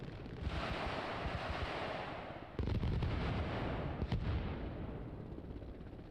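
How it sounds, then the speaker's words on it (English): Battle noise from the military game Arma Reforger: a dense, roaring wash of sustained gunfire and rotor-like rumble from attack helicopters, with a louder burst partway through and a couple of sharp cracks, continuous and without talk. "It is back to back to back attack helicopters."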